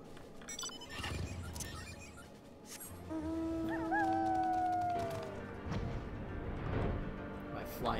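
A flying dog mount in Final Fantasy XIV lets out a long rising-then-sliding howl in the middle of the clip, set against game ambience and a voice talking.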